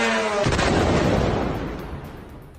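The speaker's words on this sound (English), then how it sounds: "Explosions continue to rock the Middle East" A single heavy explosion from a military strike on Iran booms suddenly, then rumbles and fades over about two seconds.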